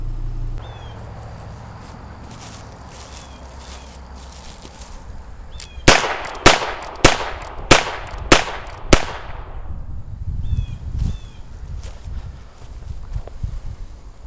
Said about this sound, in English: I guess you'd call that some cowboy style rapid fire